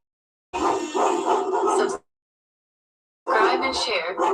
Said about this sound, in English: along with some barking